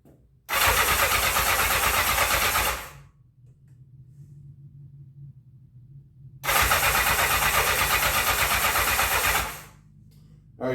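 A 1984 Honda CB700SC Nighthawk motorcycle engine is cranked after a carburetor cleaning, in two loud, close bursts of about three seconds each, separated by a quiet pause with no sign of the engine catching.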